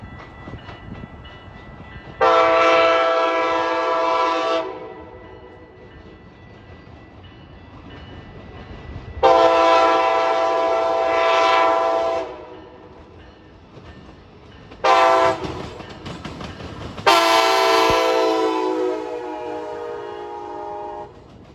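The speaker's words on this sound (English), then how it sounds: "Next is a Milwaukee-bound Hiawatha train." Hiawatha passenger train bound for Milwaukee passing, its horn sounding in several loud sustained blasts over a steady rumble of the train going by.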